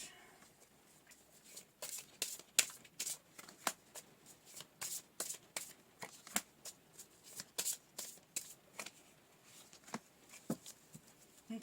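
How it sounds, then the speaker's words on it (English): Oracle cards being shuffled by hand, a quiet run of crisp riffling flutters and soft snaps repeating irregularly throughout, close and alone with no talk. "Just going to pull a couple of oracle cards to start."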